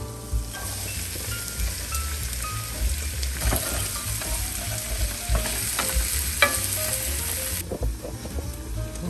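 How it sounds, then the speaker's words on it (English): Onions frying with garlic in pork fat in a pan: a steady, close sizzle runs throughout, with occasional stirring clinks and scrapes on top and no talking. "now it's time to add the onions"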